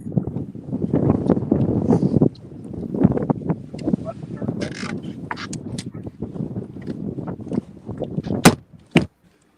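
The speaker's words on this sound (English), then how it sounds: "Barely can hear y'all over the wind." Strong wind roars and buffets over a boat out on Wilson Lake, a steady rushing noise with creaks and knocks, while people talk under it.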